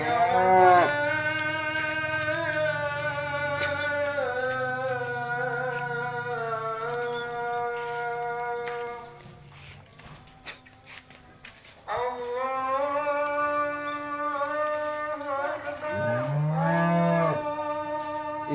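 Cattle moo loudly in long, drawn-out calls while being washed outdoors, with two sustained moos separated by a quieter gap of shuffling and light clatter, then a shorter moo at the end.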